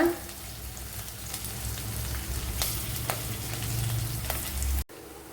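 Green chillies and curry leaves sizzle in hot oil while a netholi fish curry is being made, a close, steady frying crackle with scattered pops that cuts off abruptly near the end.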